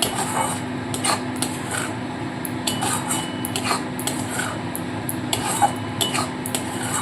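Chicken bharta masala with cashews being stirred in a pot, with a spoon scraping and clinking against the metal in irregular taps over a steady background hum, no voices.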